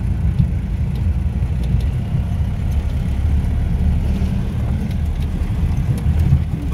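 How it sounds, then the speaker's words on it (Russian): A modified UAZ off-road vehicle drives over ice, producing a continuous low engine rumble and road roar, steady and close, without speech. "Главное, машина едет."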